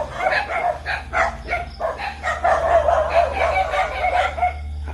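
Several dogs bark repeatedly at night in a rural province setting, a dense overlapping chorus of yaps at moderate distance, with a faint rooster-like call mixed in.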